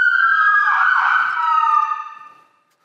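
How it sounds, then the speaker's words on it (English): Dual-tone 200-watt siren on a 2021 fire department Chevrolet Tahoe command vehicle, loud and close, a brief wailing sweep that cuts off and fades to silence. "We do have dual sirens on this vehicle with dual tone at 200 watts total siren."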